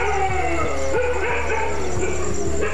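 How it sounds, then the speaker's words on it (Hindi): Several dogs bark repeatedly in a village as lions are near, overlapping yips and barks at close to moderate distance over a steady background hum, with no speech. "कुत्ते शेरों को देखते ही भौंक भौंक कर"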